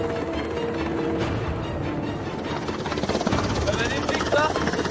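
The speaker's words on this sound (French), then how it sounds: "C'est en hélicoptère que nous nous dirigeons vers mon prochain défi." Helicopter carrying a French army mountain commando group in flight, its rotor and turbine roaring loudly and steadily throughout, with a voice heard faintly under the noise.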